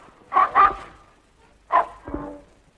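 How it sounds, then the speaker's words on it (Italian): A dog in a 1939 Italian film gives a pair of quick, loud barks, then after a pause two more, the second lower and rougher, with no talking. "Questo povero cane ha dimenticato il proprio nome."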